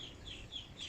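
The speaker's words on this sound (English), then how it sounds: "It's my little chicken, Rosa." A pet hen clucks softly in a few short, repeated calls over about a second, close by with a steady low background rumble and no talking.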